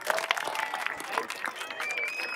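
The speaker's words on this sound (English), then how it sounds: "Give a round of applause, guys." An audience at a soccer club senior night applauds with scattered clapping and crowd noise, some voices mixed in.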